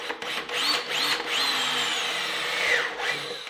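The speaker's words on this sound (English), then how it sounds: "To drill a very clean hole in the plastic, you're going to want to use a step drill" A step drill whines steadily through the plastic case of a portable power station at close range, pausing briefly a few times as the bit bites and releases.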